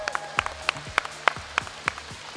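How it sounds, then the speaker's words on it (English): Clapping at a tech conference demo event: about eight sharp, evenly spaced claps in a steady rhythm, fairly close and without talk. "All right, let's give a round of applause."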